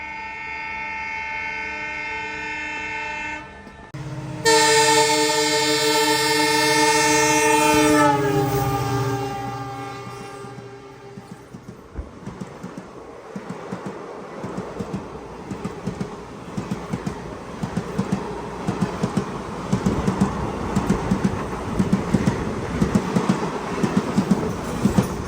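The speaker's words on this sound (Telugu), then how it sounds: "అవతల ట్రాక్ లో ఏదో ట్రైన్ వస్తుంది" A Leelan Express on the opposite track sounds a long, loud horn blast, then runs past nearby with a steady rolling rumble and rhythmic clatter of wheels over rail joints that continues to the end.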